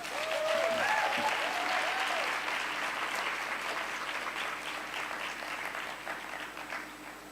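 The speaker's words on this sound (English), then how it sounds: "Please give her another warm round of applause." Warm audience applause from a seated conference crowd fills the hall with dense, steady clapping that starts loud and slowly tapers, with a brief voice over the start.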